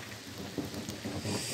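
Rain falls outdoors during a storm, with a soft steady patter and faint distant thunder rumbling under it at low volume.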